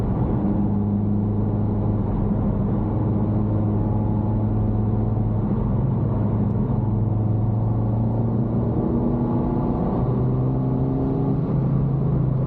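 A Honda Civic Type R FK8 on the road is heard from inside as a steady, droning engine hum and tire rumble, holding a constant pitch with slight rises under acceleration and no talk.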